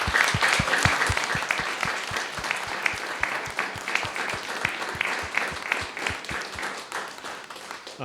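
Audience applause after a forum talk by a painter and musician: a roomful of hands clapping steadily for several seconds, with a few sharp, distinct claps standing out near the front before it gradually thins.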